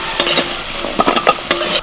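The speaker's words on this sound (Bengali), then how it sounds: "আলুগুলো ভালো করে ভেজে নিয়েছি, ভাজতে ভাজতে হাফ সেদ্ধ হয়ে গেছে" Potatoes with salt and turmeric fry in oil, a close, loud sizzle punctuated by several quick spatula scrapes against the pan, with no voices.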